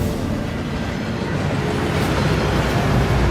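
A waterfall rushes on the Gringotts vault cart ride in Hogwarts Legacy, a broad, steady roar of falling water that stays loud and constant throughout.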